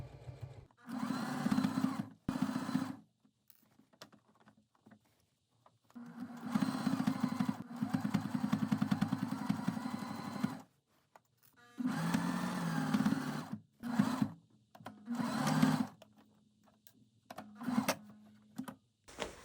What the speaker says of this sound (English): you want to take it to your sewing machine and sew it at a 1/2 inch seam allowance along the entire half hem